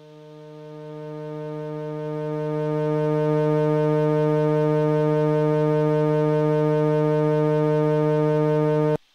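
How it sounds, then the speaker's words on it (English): An analog synthesizer tone taken from a peak nonlinearity holds a steady, buzzy, harmonic-rich drone that swells in loudness over the first few seconds, then sustains evenly before cutting off abruptly. "So that's the signal coming from the peak."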